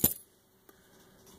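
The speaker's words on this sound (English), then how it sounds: "And, of course, my Jeep keys, house key." Jeep keys and a house key jangling, one quick bright metallic rattle followed by a faint small clink, close and quiet.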